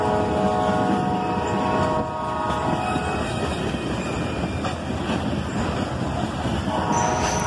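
A CSX freight train led by diesel locomotives, including an SD-40-2 rebuilt as an SD-43, rolls past close by on a Sunday morning, with a steady loud rumble, rail noise and a faint horn-like tone throughout.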